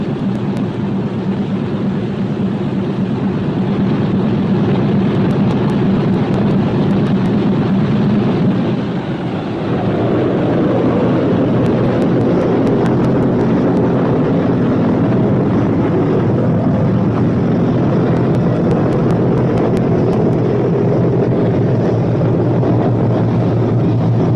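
The piston engines of a B-17 Flying Fortress bomber roar in a dense, continuous drone, loud and close, with a brief dip before the engines run up again and hold steady.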